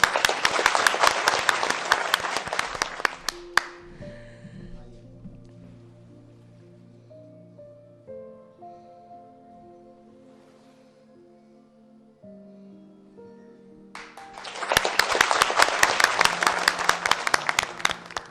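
Audience applause at a PTV anniversary stage show, a loud burst of clapping that fades under soft music, then swells back strongly near the end.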